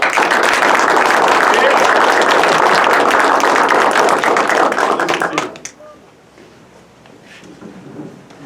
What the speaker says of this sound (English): Let's give a round of applause to our newest Dirt Boys.